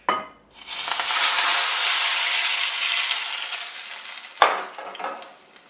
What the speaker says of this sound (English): you're going to give it a good stir